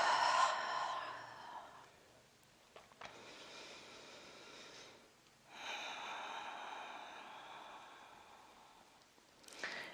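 Deep breaths drawn in and let out slowly during a relaxing stretching session, with long airy inhales and exhales close by separated by short quiet gaps.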